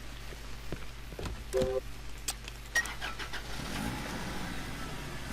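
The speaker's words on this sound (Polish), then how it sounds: "Car outside" A car engine starts and runs outside in the Cry of Fear video game, a low mid-pitched hum with faint clunks and a revving rise toward the end, heard at moderate distance.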